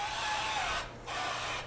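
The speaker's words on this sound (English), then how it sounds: "I'm going to grease the pans" Avocado oil cooking spray misted over baking pans for brownies, two bursts of close, loud hissing separated by a short pause, and no speech over the spray.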